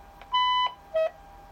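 An Avire Memcom lift alarm unit booting up gives two clear electronic beeps, a longer tone followed by a shorter one, loud and close in a quiet room.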